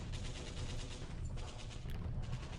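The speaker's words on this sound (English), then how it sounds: "Japanese bombardment" Japanese bombardment in a Pacific war strategy video game, continuous faint distant rumbling fire with scattered muffled gun and artillery bursts.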